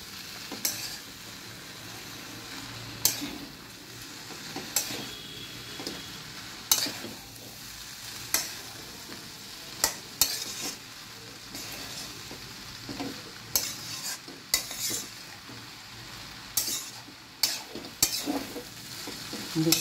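Prawn chowmein stir-fries in a large wok, with a steady oily sizzle broken by frequent sharp scrapes and clanks of the utensil tossing the noodles in an irregular rhythm.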